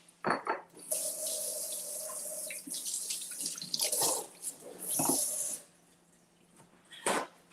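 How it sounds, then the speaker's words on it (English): Hands being washed under a running kitchen tap, a steady hiss of water with splashing and rubbing that pauses briefly and resumes, close and clear. "Let me wash my hands"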